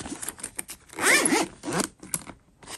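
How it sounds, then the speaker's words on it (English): A zipper pulled closed along a carrying case for a Nintendo Switch OLED, several close, quick ripping strokes with a longer loud pull in the middle, no talking. "Close it, zip it up."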